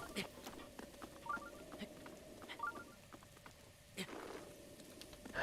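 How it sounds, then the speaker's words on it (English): Rain in the video game Zelda: Breath of the Wild, a soft pattering wash of drops with scattered sharper ticks, faint and continuous, heard beneath quiet game sounds. "Stupid rain."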